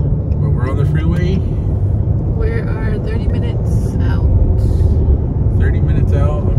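A car cruises on the freeway with a loud, constant road and engine rumble filling the cabin, while people talk intermittently over it.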